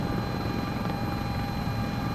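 Steady rotor and turbine drone of a Sikorsky S-76 helicopter in the CowanSim flight game, a continuous even whine and rumble held at constant level throughout.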